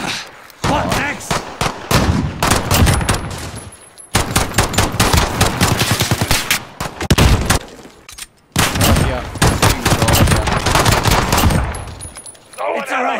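Loud, sustained automatic gunfire rattles in rapid bursts during a video game survival mode, with long rapid strings of shots broken by a few short pauses.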